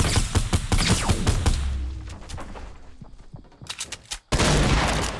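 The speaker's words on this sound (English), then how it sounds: "someone's shooting at me" Rapid bursts of enemy gunfire from a shooter video game crack out loud and close in a dense volley, thin to scattered shots, then return sharply near the end, with no talking.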